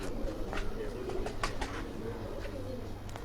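Golden mamdin pigeons coo in low, rolling phrases close by, the cooing running steadily with scattered clicks and shuffles from the birds mixed in.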